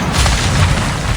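A bomb detonates in Assassin's Creed Valhalla, a loud, sustained low boom with rumbling debris that fills the whole moment without any voices.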